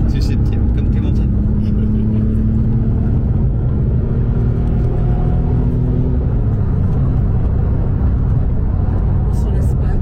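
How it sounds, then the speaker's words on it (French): A Porsche engine drones steadily from inside the car while driving, a constant loud low rumble with road noise throughout, and voices talking over it. "On s'en lasse pas de ce moteur."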